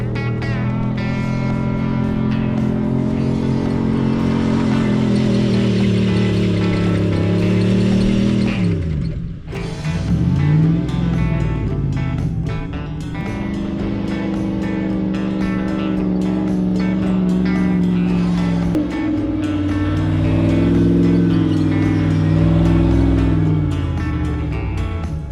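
FJ45 rock crawler climbing a hill off-road, its engine droning loudly with rising and falling revs, a brief dip partway through, then sustained throttle bursts as it labors up the slope.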